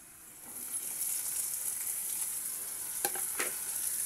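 Dried fish and browned onions fry in a pan with a steady, close hiss, with two brief sharp clatters of utensil against pan near the end.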